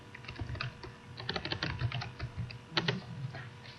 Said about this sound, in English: If I type something in here, notice how fast I type.